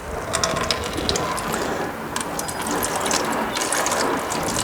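Ratchet wrench clicking steadily as it loosens the drain plug on a Yamaha Raptor ATV, a dense run of fast metallic pawl ticks close up with a faint background hiss.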